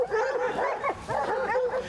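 Hunting hounds on a bear hunt bay and yelp in overlapping, wavering howls and barks, several dogs at once at moderate distance, continuous and fairly loud with no clear talking.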